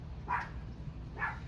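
Two short dog barks about a second apart, moderately distant, over a low steady background hum.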